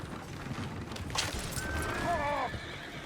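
Horses in the Red Dead Redemption 2 game clatter and whinny near a swaying coach, a rising neigh cutting through steady hoof and harness noise under a busy ambient bed.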